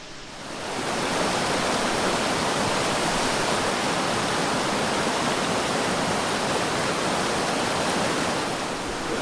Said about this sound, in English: this is the river that is draining out from Marina Lake into Smoothwater Lake